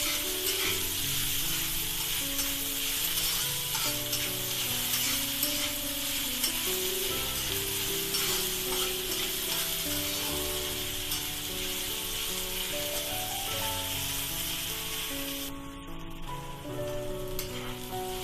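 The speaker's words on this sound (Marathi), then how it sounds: "कांदा लसूण चांगला भाजून घ्या।" Onion and garlic fry in a pan for a black-eyed pea vegetable dish, a dense, even sizzle that runs without break at close range, briefly dipping near the end.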